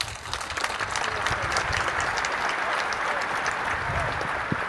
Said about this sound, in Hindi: गुफ्तगू के आगाज़ के लिए एक बार फिर ज़ोरदार तालियों की दरख्वास्त